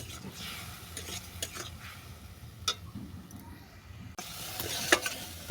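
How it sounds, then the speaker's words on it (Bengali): Spice paste with salt and turmeric frying in a pan for a prawn and spiny gourd curry, with scraping stirs and light clicks over a faint sizzle, close up and without talk. "সঙ্গে মশলাটা ভালো করে কষিয়ে নেব"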